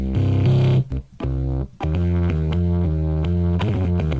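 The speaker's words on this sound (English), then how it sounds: "Let's grab a distortion plugin. Let's grab ourselves an amp here." A low synth line pushed through distortion and amp plugins plays as loud, gritty, buzzing notes in a choppy rhythm, with short dropouts and a dense harmonic crunch, heard alone.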